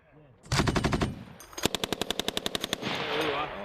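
Marine Corps machine gun firing live rounds on a range in South Korea: a dense opening volley, then a rapid, evenly spaced burst of about a dozen loud, close shots, with a faint voice beforehand.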